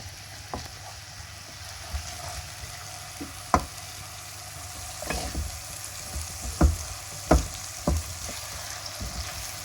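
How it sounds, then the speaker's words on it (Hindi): Ginger garlic paste sizzles and fries steadily in a hot pan, with scattered pops and crackles and the occasional scrape of stirring, close and fairly quiet. "अदरक लहसुन के पेस्ट को ब्राउन होने तक भून लेंगे।"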